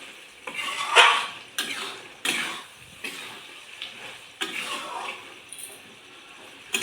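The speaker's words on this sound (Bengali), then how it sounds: "গাট্টাটা দিয়ে আমি ভালো করে একটু নেড়ে চেড়ে নেবো।" Gatte are stirred in a pan with repeated scraping and knocking strokes of a spoon, loud and close, over a faint sizzle.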